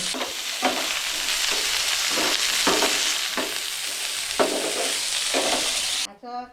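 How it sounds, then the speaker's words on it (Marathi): Two onions frying red in a pan for a village-style crab curry, a loud continuous sizzle broken by regular stirring scrapes, cutting off abruptly at the end. "तर बघा असा कांदा लाल भाजून घ्यायचा"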